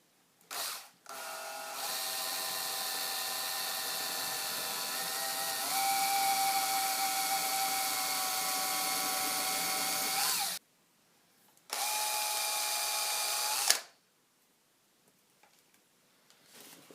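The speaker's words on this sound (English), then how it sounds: "I'm going to shave down the cork to the right diameter." A power tool whirs steadily while shaving down a cork, with two long continuous runs that shift slightly in pitch, short pauses between them, and a brief start-up burst at the beginning.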